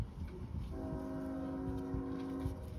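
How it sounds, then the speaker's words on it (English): A train passes near an outdoor rock prospecting site, its horn sounding a steady multi-tone blast over low rumbling rail noise, moderately distant, with no talking. "Sorry about the train. I don't know how noisy it is."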